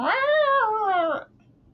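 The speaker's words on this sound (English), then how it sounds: "when you hear a cat" A single loud, drawn-out meow from a nearby house cat, rising and then falling over about a second before cutting off into a quiet room.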